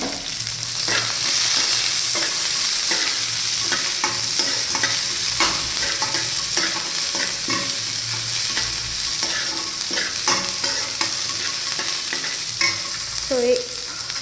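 Onions fry in hot oil in a pan with a loud, continuous sizzle that runs throughout. Frequent spoon scrapes and clicks punctuate the sizzle as the onions are stirred, with no voices.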